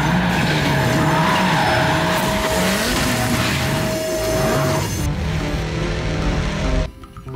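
A toy race car skids with a squealing, revving engine-like whine and rising pitch sweeps, loud and close, continuing for several seconds before cutting off abruptly near the end.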